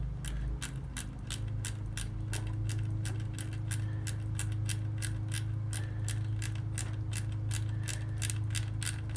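A ratchet tightens a battery terminal bolt on a Harley-Davidson XLH Sportster, giving a long run of quick, evenly spaced clicks up close over a low steady hum.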